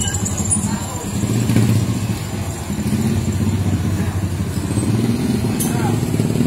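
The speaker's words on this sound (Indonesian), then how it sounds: "Helicopter motor." A handmade Filipino motorcycle fitted with a helicopter engine idles steadily at close range, a low continuous throbbing drone that runs without a break under occasional nearby voices.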